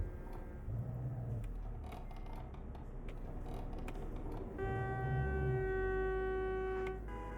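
Truck horn in the TruckerMP driving game, two sustained tonal blasts, the second longer and brighter, sounding over low engine hum with no talk.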